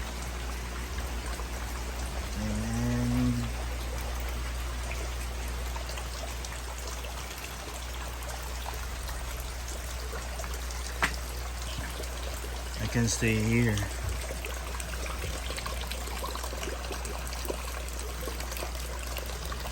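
Steady rain and trickling, flowing water at an outdoor crayfish pond, a continuous wet hiss throughout, with a person speaking briefly over it.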